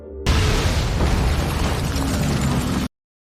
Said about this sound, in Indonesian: mobil yang ditumpangi Claire meledak.